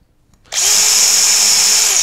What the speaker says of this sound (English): We need to keep the drill bit nice and straight as we go down.